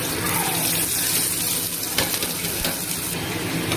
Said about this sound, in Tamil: எண்ணெய் விட்டு வெங்காயம் எல்லாம் வதக்கிக்கலாம்.